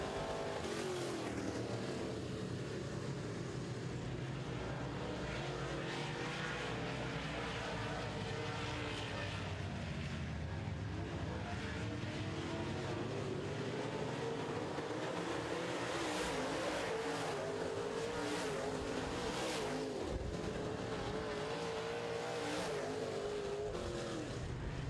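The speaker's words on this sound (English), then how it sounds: "Your leader still Kevin Sexton, staying to the bottom of the track." Modified race cars running a heat on an oval track, a continuous engine roar and whine from several cars that rises and falls as they pass, heard at a distance.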